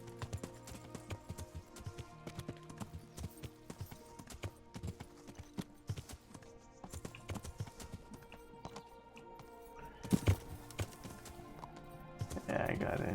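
Horse hooves clip-clopping in the medieval video game Kingdom Come Deliverance, an irregular run of hard taps with a louder clatter near the end, heard alongside game sounds.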